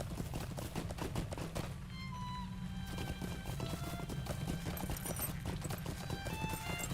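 Horse hooves clip-clop at a steady trotting rhythm in the video game LOTRO (Lord of the Rings Online), fairly close and continuous, with faint ambient game music tones above and no talking.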